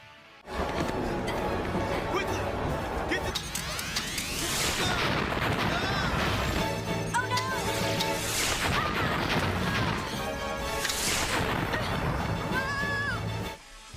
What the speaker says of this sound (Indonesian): tentara Trakena pun mulai menyerang Terra Venture, bahkan nggak segan meledakkan diri mereka sendiri.